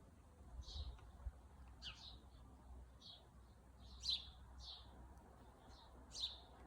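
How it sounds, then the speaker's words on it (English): Birds chirp and sing in a front lawn garden, short bright calls repeating every second or so at moderate distance over a low background rumble. "I can hear the birds singing around here."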